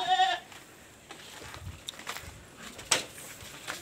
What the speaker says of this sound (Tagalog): Ito ang ating mga alagang kambing.